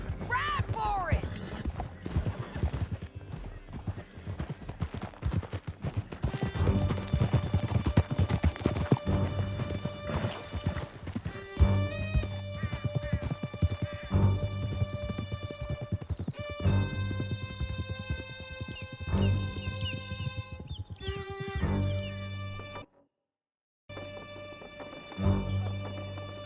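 Several horses gallop in Red Dead Redemption 2, their rapid hoofbeats clip-clopping steadily and loudly under tense music, with occasional whinnies and voices talking over the ride before a short silence near the end.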